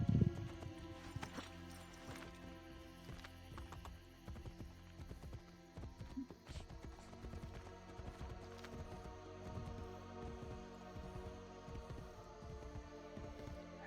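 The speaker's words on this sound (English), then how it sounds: "Horsey." Horse hooves clip-clop in a steady galloping rhythm in the video game Assassin's Creed: Brotherhood, a continuous moderate patter layered over a low hum of game ambience, with no talking.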